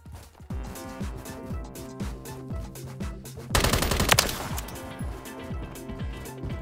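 Rapid automatic gunfire in Call of Duty: Modern Warfare 3 (2023), loud repeated bursts with a dense, intense volley near the middle, continuous throughout without speech.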